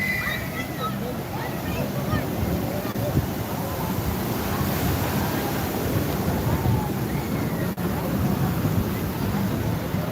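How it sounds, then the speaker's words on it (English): Ocean waves break and wash continuously beside a pier, a steady broadband roar with heavy wind buffeting the microphone. "Big old wave coming."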